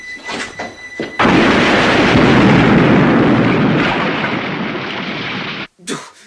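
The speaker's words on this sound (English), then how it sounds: "It's like the godfather of Talia Shire blew up both her and her husband" A movie explosion that blows up a couple erupts after a few brief sounds into a loud, roaring blast that rumbles for several seconds before cutting off abruptly.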